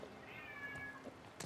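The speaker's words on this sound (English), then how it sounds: "I wonder if you guys can hear the cat meow" A cat meows in The Last of Us Part II gameplay, one faint, drawn-out meow heard softly over a low background hum.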